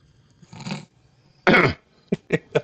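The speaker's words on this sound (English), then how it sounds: "Oh, you got a cough?" A person coughs in a studio setting: one short rough cough, then a louder harsh hack, followed by three quick close coughs in a row.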